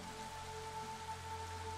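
Steady, soft rain patters continuously in the video game Against the Storm, an even wash of drops with a faint tonal game hum beneath it.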